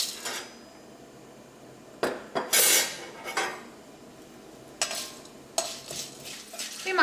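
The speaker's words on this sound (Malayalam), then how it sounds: "ഇനി ഇതിലേക്ക് നമുക്ക് ഏറ്റവും ആദ്യം തന്നെ ഈ മസാലകളെല്ലാം ഇട്ടിട്ടൊന്ന് വറുക്കുക." Spices frying in coconut oil for a Mullapanthal-style duck curry, stirred in a metal pan: intermittent sharp scrapes and clinks of a spoon against the pan over a soft, faint sizzle, with no voices.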